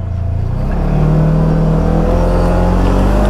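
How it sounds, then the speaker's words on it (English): Polaris General XP utility vehicle with a ProStar engine driving on a trail, a loud, close, continuous engine drone that rises in pitch as it accelerates, with no talking. "This engine is a ProStar engine, XP series."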